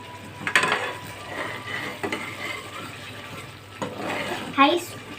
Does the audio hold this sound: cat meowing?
no